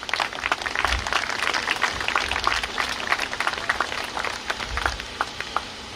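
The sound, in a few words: crowd applause at charity walk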